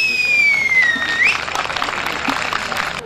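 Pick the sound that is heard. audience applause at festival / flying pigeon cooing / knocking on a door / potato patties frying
audience applause at festival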